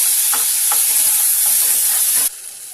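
A paste of cashews and green chillies fries in a pan with a close, dense sizzle and a few soft scraping stirs, then cuts off abruptly into near silence.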